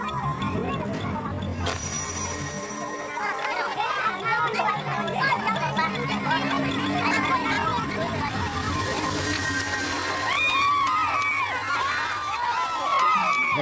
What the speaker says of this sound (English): The crowd roars for Bapate.